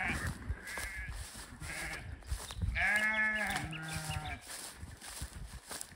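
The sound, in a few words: sheep bleating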